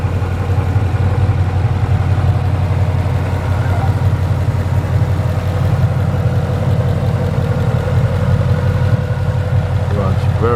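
A 2012 Ford Mustang Boss 302 idles steadily with a smooth, low engine rumble, fitted with an aftermarket exhaust, running continuously close by with faint background sounds.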